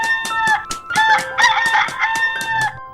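Several roosters crowing over one another in a dense, overlapping chorus, loud and close, with clucking mixed in.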